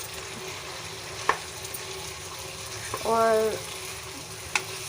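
Mutton and cauliflower curry sizzles steadily in a pan while being stirred, with a few sharp scraping clinks of the spoon and a brief clattering scrape midway; a single spoken word is heard.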